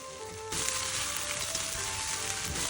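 Stir-fried noodles with shrimp and sauce sizzle loudly in a hot pan. A sudden, strong hiss starts about half a second in and holds steady, close and alone, with faint stirring underneath.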